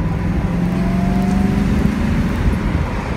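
A 1985 Mercedes-Benz 380SL V8 roadster cruises down the road, its steady engine hum and road roar filling the cabin at an even level throughout, with no talking.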